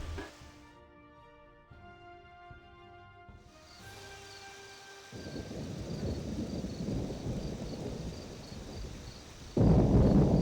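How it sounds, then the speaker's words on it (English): Rain and rolling thunder in the PS2 video game Hitman 2: a few soft musical tones at first, then a steady rain hiss that swells and grows heavier, ending in a loud, close rumble. "the rain seems really loud"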